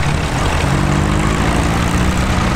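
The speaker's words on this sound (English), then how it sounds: "Is that a diesel engine? Smooth running thing, isn't it?" A vintage diesel tractor engine runs smoothly and quietly at a tractor parade in Fettercairn, Aberdeenshire, a steady broadband drone with low harmonic tones, continuous and fairly loud close by.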